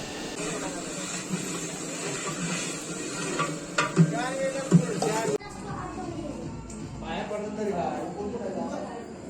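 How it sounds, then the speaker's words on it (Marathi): Puris deep-frying in hot oil, tended by men at a family gathering in a Konkan village near Lanja, Ratnagiri, with a steady sizzle and clatter of utensils under busy talk and background chatter. "इकडे आमचे जेंट्स लोक पुऱ्या तळतात"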